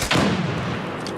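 Grenade explosions in a competitive online shooter match, one heavy booming blast with a short rumbling tail, loud and close.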